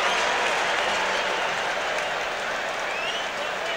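A packed football stadium crowd at the 2003 Wild Card game, Broncos at Colts, roars continuously in a dense, loud wash of cheering and clapping that holds steady throughout.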